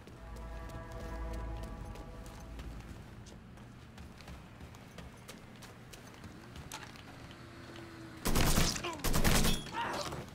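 Gunfire in the Mafia III video game, scattered shots under a low engine-like rumble before a loud, close burst of rapid automatic fire near the end, with brief pauses between volleys.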